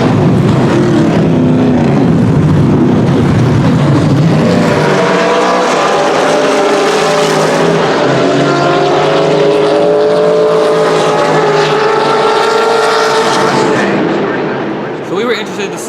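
Several rock bouncer race cars roar around a track, engines revving hard and rising in pitch as they pass close and loud, then fading away toward the end.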